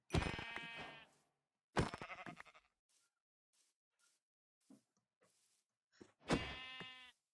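Sheep bleating in the Minecraft video game: three loud, close, wavering bleats separated by quieter gaps with faint small sounds.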